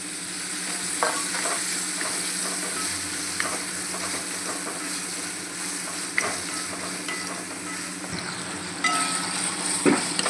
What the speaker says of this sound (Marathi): ती पण मी तेलामध्ये थोडी फ्राय करून घेणार.